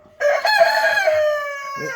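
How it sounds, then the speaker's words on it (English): A buff Orpington rooster crows nearby, one loud, long harmonic call that starts abruptly and trails off over nearly two seconds, with no talking over it. "And then we got Bert, my buff Orpington."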